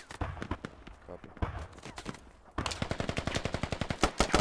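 Close AK rifle fire in the video game Squad: loud, sharp cracks, sparse and uneven at first, then a rapid, steady run of shots in the second half.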